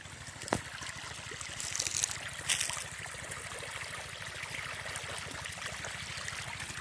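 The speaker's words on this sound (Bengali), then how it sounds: "এই অনেক দূর থেকে আর কি জল আসছে পাইপে করে, এসে এখানে জল দেওয়া হচ্ছে।" Water piped in from far away pours into a mustard field, a steady trickling, gurgling flow with a low pulsing rumble underneath and a couple of brief knocks, close and moderately loud.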